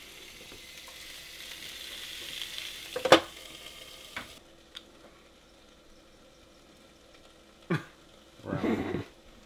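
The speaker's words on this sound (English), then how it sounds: "He's cooking rum ham." Rum ham frying in a pan, a soft steady sizzle with a few sharp clatters and a scrape of stirring near the end, close by and fairly quiet with no talking.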